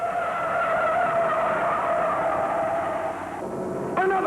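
A 1963 Ford Falcon modified race car spinning out in the first turn at Martinsville Speedway, with a loud continuous tire skid and engine drone, then a brief change in tone at the end.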